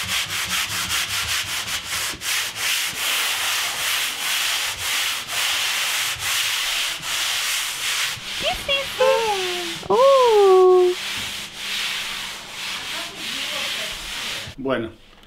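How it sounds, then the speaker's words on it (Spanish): A foam sanding pad rubs across an interior wall being prepared for painting, a steady rasping scrape of repeated strokes close by, with brief voices and a short squeak partway through. "primer paso es darle una buena lijada. Este es un lijador, ¿sí? Con una lija de espuma que tenemos acá."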